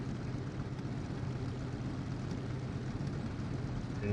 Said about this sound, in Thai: ฟังเสียงเครื่องยนต์ข้างนอกนะ